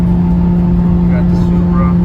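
Steady low engine and road drone from inside a Toyota Supra cruising at dusk, a constant close rumble with a sustained hum and no distinct events over the short span.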